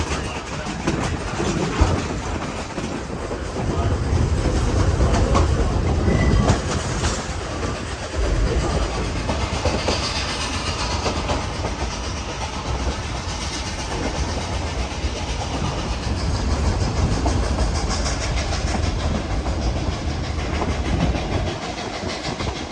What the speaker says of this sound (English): The consist was K-28 number 473 powering the train